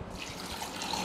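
A steady stream of water pours continuously into a cooking pot for bitter gourd sambar, a soft splashing trickle close by with no speech.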